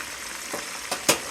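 Pork chops in Louisiana chicken fry coating frying in a pan, a soft steady sizzle with three brief louder pops or crackles rising over it, close and fairly quiet.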